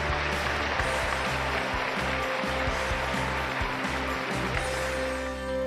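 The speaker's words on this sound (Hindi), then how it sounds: "हर तरफ छात्रों की तालियां गूंजने लगी" Students applaud in Talkatora Stadium as the Prime Minister reaches the stage, a continuous wash of clapping filling the hall over steady low background music.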